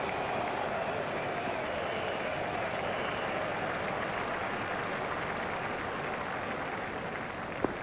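Cricket crowd at the MCG applauds a batsman's half-century during a limited-overs India vs Australia match, a dense, steady wash of clapping that holds evenly from start to finish, loud and without talk.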